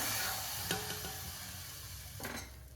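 Dry coconut roasts in a pan over a low flame without ghee, giving a steady soft sizzle and hiss with a few scraping stirs, near and continuous, with no voices.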